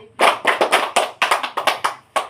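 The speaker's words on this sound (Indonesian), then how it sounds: "Tepuk semangat." Group of students doing the tepuk semangat chant: loud, close hand claps in rhythmic bursts of two and three, with short gaps between the groups.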